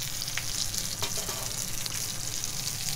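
Steady, dense sizzling of a fish fillet frying skin side down in a hot pan, close and continuous, with a few faint crackles and no voices.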